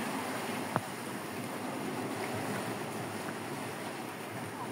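Rough sea waves washing around a small boat moving near Quezon Island, heard as faint, steady water rush mixed with wind buffeting the microphone and one brief knock.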